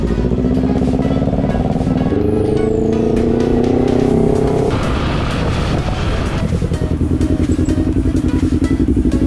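Loud, steady roar of three motorcycles riding along, with shifting pitch as the bikes accelerate and change gear, plus some wind buffeting.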